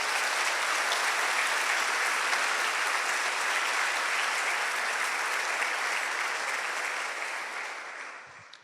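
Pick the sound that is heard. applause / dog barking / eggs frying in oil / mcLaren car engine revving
applause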